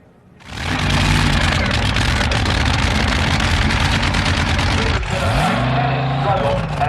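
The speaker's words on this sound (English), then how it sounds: "And now the final race in Top Fuel Eliminator here at the Summer Nationals in Englishtown, New Jersey." Top Fuel dragsters, the Candies and Hughes car against Muldowney's, roar loudly and continuously in the Top Fuel Eliminator final at the Summer Nationals in Englishtown, New Jersey, a deep sustained blast that shifts pitch near the end.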